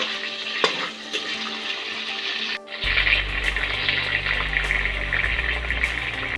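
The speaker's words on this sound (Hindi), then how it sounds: "अब हम इसे गोल्डन फ्राई कर लेंगे" Chicken frying in oil in a kadhai until golden, with an early clatter of stirring followed by a loud, steady sizzle that fills the rest of the clip.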